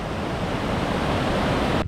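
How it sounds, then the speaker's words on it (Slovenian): Small waterfalls at Martinbrod in Bosnia and Herzegovina, water running through a forest, make a steady, loud broadband rush with no breaks that cuts off sharply just at the end. "To so pa še mali slapovi v Martinbrodu."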